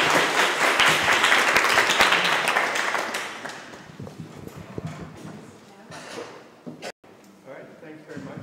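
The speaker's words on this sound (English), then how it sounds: "Give them a round of applause." A room full of people at a community design workshop gives a loud round of applause that fades after about three seconds into scattered claps and murmuring.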